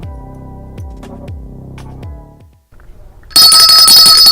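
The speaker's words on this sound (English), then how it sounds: "the phone kept ringing over and over again" On an afternoon radio talk show, a telephone rings in four evenly spaced bursts, over and over. It is then cut off by loud music.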